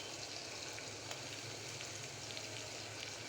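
Carrot, onion and beans frying for vegetable biryani give a steady, close sizzle that holds without a break at an even level, with small crackles and pops scattered through it and no voice.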